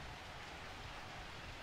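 Steady, even rain in the Blood Bowl 2 fantasy football video game, a constant close wash of patter with no voices or other sounds over it.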